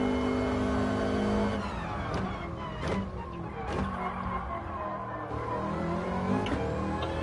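Subaru rally car in a racing video game drones with steady engine noise while tires scrub and squeal in short skids as the handbrake is pulled, no talk.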